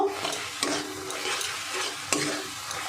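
Sweet filling being stirred with milk in a pan, with a ladle scraping and a few sharp clicks against the metal over a soft, steady sizzle, close and moderately loud, no voices.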